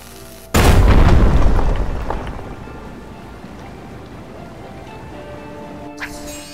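A single sudden, loud explosive blast in the video game Mask of Mists booms out inside catacombs, its deep rumble decaying over a couple of seconds into a quiet hum, with a faint click afterward.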